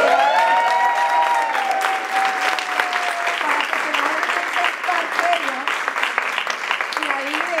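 Applause from a conference audience at an autism congress, a steady dense clapping that fills the room for several seconds with a few voices mixed in.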